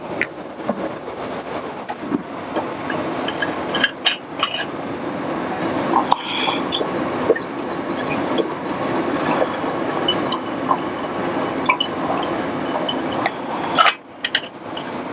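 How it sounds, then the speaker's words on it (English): Formalin liquid poured off from a tissue processor container in a lab, a steady close splashing trickle with faint glassy clinks, running for about fifteen seconds with a brief break near the end. "I pour off the rest of this formalin."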